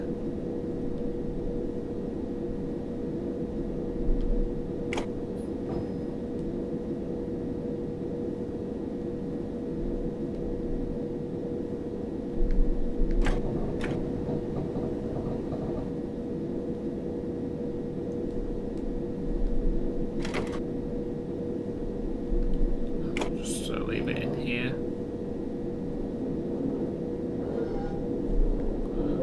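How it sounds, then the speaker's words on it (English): Inside the cab of an 8-car passenger train in Train Simulator 2015 on the Victoria to East Croydon route, a steady low rumble and hum of the moving train continues throughout, with a few brief clicks and someone speaking briefly. "best to get the train into at least 30 miles an hour so you've got ample braking distance"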